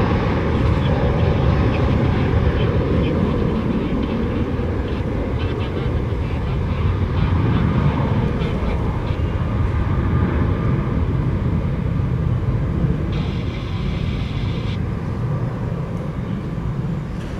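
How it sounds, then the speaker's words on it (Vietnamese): A C-12 aircraft taxiing onto runway 25L at Tan Son Nhat airport, a steady broadband engine drone and whine holding level for the whole stretch, moderately loud and unbroken. "chiếc máy bay được lệnh tiến lên đường băng 25 trái và dừng chờ ở đây nha"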